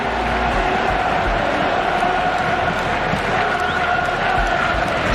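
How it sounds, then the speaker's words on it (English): A large football stadium crowd at Chelsea versus Red Bull Salzburg, with Salzburg supporters applauding, a dense steady roar of clapping and crowd noise throughout. "even the Salzburg supporters are applauding that"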